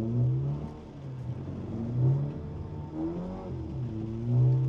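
A drift car's engine revs up and eases off in repeated swells as the throttle is pressed and released, a mid-pitched motor heard fairly close with no talk.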